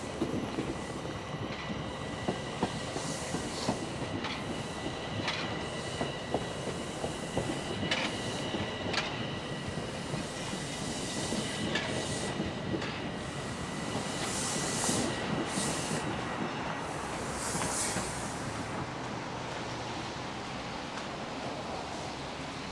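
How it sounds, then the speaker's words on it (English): A northbound Toronto subway Line 1 train pulling into a station: a steady rumble of railcars with clacking wheels and occasional squeals, close and continuous, with no voices. "Here comes the northbound line 1."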